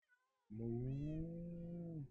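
A cat meows once in a base-building video game, a single drawn-out, tonal call lasting about a second and a half, loud and close with no talk over it.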